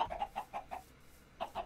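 Minecraft chickens cluck in a quick run of short clucks, a brief pause, then two more, fairly faint and with no talk.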